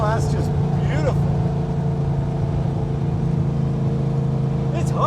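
The 1980 Chevy Camaro Z28 restomod, with a gear drive, holds a steady, loud low engine drone at half throttle from inside the car, with people talking over it.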